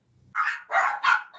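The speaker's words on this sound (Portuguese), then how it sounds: "Ai, gente, meus cachorros." Dogs at home give off a short burst of sharp barks, three to four quick, fairly close barks in a row.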